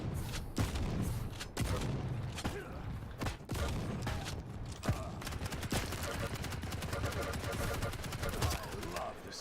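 Shotgun blasts and other weapon fire ring out in a fast-paced Quake Champions match, with repeated sharp bangs over a dense, loud mix of game effects and music.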